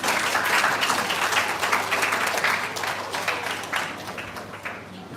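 An audience at a 4H Club national public speaking competition in Dominica applauds the first place winner, a dense burst of clapping that starts loud and gradually thins out.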